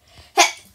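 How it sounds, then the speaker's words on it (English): A single sharp sneeze bursts out loud and close after a brief quiet intake of breath, followed by the start of a second burst at the very end. "I'm gonna sneeze now."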